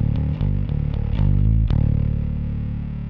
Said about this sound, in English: So you can hear what it sounds like if we don't cut out any of the low end before it goes to distortion.